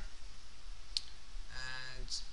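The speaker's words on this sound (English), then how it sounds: "just uh, click on render" A computer mouse clicks on a render button in Maya software, two short sharp clicks about a second apart with a faint tonal hum between, quiet room background.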